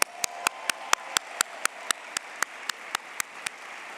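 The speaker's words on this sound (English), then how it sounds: "So just take a moment to clap for your beautiful selves." Slow, evenly spaced claps, roughly four per second, crisp and close against a quiet room at a gala celebration, with no talking.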